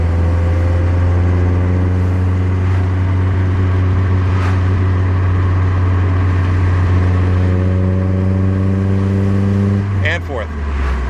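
A car engine holds a loud steady drone, then revs and shifts up to third gear near the end, with the pitch dropping and rising sharply, while people talk over it.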